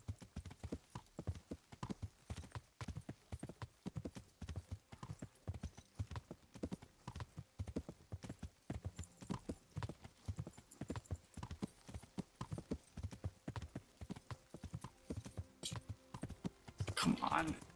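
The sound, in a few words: horse galloping in a video game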